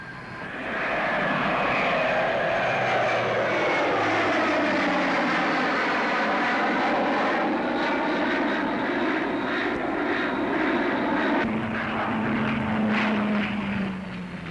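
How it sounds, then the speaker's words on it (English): A Vickers Viscount turboprop airliner drones overhead in a 1949 Farnborough Air Show flying display with two engines stopped and feathered, its engine tone steady and then shifting in pitch as it passes close by. "The Vickers Viscount, already on order by British Airlines and powered by turbo propellers, gave a spectacular display"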